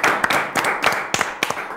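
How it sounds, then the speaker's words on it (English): A small group claps at a children's spelling competition on a school quiz show, a few short bursts of hand claps, close and fairly loud, with no one speaking. "Let's give a round of applause."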